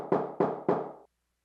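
Three hollow knocks on a head, evenly spaced and loud, each with a short resonant decay, then silence.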